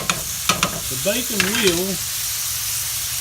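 Bacon frying in a freshly restored cast iron skillet, a steady broadband sizzle running throughout with a few sharp pops and crackles early on, while a person speaks briefly over it near the middle.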